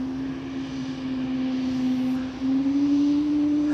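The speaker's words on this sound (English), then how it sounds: "I am hearing a helicopter left of me." A helicopter flies nearby beside the runways at Amsterdam Schiphol Airport, giving a loud, steady engine drone with a constant tone that swells slightly over a few seconds.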